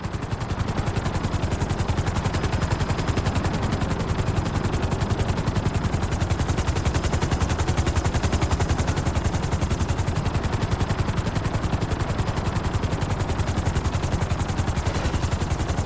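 Helicopter in Grand Theft Auto V setting down on a helipad: a steady, loud rotor chop with fast rhythmic thumping and engine whine, continuous and close throughout with no talk.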